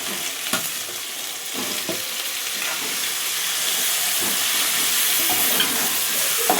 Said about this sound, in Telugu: ఇప్పుడు చికెన్ వేసేస్తాం.